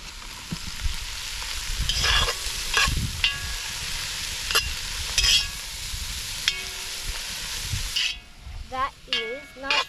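Swiss brown mushrooms browning in a pan over an open fire, a steady broadband sizzle under repeated scraping stir strokes, with short tonal clinks and squeaks near the end.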